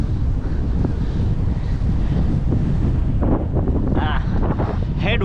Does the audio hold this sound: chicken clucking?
no